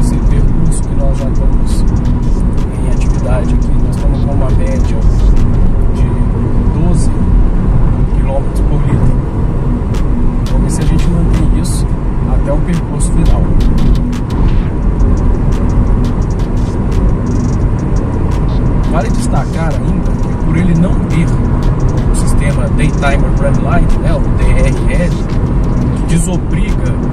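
Interior drone of a 2021 Nissan Versa climbing an uphill highway stretch, a steady engine and road roar with occasional ticks and bumps, continuous and fairly loud beneath someone narrating throughout.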